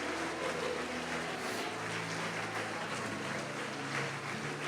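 A church congregation at a Portuguese-language conference applauds in a continuous, even wash of clapping that stays fairly faint and steady throughout, over a low rumbling hum.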